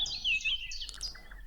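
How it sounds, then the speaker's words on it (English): Birds chirping, a few bright, high tweets and short calls, faint and soft, over quiet background. "Birds chirping."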